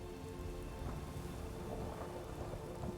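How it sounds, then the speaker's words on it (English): Thunderstorm with steady rain in the Skyrim video game, a dense continuous wash of rainfall with low rumbling thunder beneath it, fairly loud and unbroken throughout, with no voices. "there is a thunderstorm going on"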